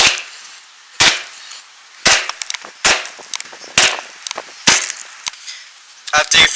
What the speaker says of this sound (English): you want to grab something hard that has a really hard bottom to it and just hit it.